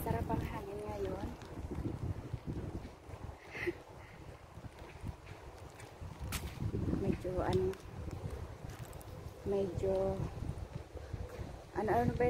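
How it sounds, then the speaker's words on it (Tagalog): Steady wind rushing against the microphone outdoors, with people talking over it throughout. "masarap ang hangin ngayon."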